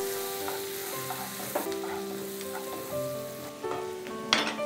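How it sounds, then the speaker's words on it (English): Onions sauté in hot butter in a broad non-stick pan over a medium flame, a close steady sizzle punctuated by spatula scrapes and clinks, with a sharper clatter near the end. "heat some butter in a broad non-stick pan. So now our butter is hot. Add some onions. Sauté this on a medium flame for 1 minute."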